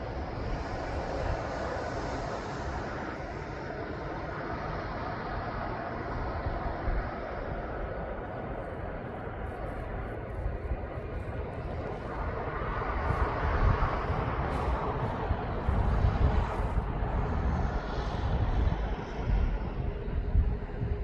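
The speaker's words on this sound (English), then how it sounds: "Just as it's coming out of the clouds, I will turn around for this Ryanair." A Ryanair jet airliner approaching East Midlands Airport rumbles from a distance, faint and steady at first, then swelling somewhat louder toward the end.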